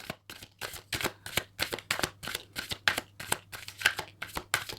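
Tarot cards being shuffled by hand, a rapid series of crisp riffling bursts repeating in a steady rhythm, close and fairly loud with no talking.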